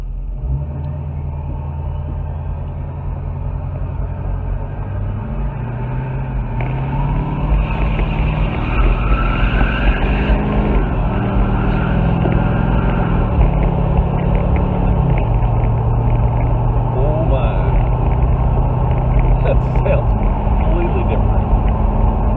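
A Nissan Titan XD pickup with its emissions system deleted drives along, giving a steady deep engine rumble with droning low tones that shift as revs change, loud and close inside the cab, with someone talking over it at times.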